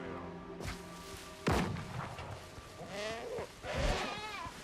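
Goats bleat in short, wavering calls in the video game Windrose, over a busy game soundscape, with a sharp thud near the start and more bleats toward the end.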